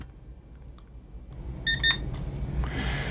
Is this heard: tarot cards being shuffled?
no